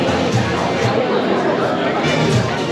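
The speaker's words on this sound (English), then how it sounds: "And I'll just spin you around, look at the crowd." A crowd of people queuing outside an ice cream shop in Queenstown, a steady dense babble of many overlapping voices close around, continuous with no pauses.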